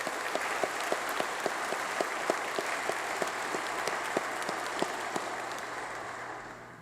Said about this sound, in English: So thank you, and round of applause for the incredible band.